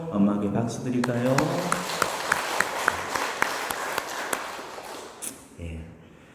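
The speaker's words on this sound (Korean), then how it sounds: "엄마에게 박수 드릴까요?" During a Catholic homily, a congregation gives scattered applause with crisp separate claps rising after a spoken line, thinning out as talking continues over and after it.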